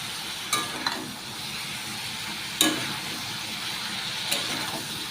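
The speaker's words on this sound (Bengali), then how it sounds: "পটলটা ভাজা হোক আস্তে আস্তে" Pointed gourd frying slowly in a pan, a soft, steady sizzle broken by a few sharp scraping knocks of stirring, fairly quiet and close.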